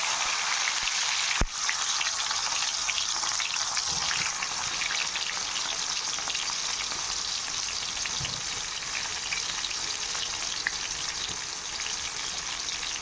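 Chopped onion frying in hot oil in a kadai after cumin and mustard seeds, giving a loud, dense, continuous sizzle that holds steady throughout, close up, with a brief clack of a utensil near the start and no talking.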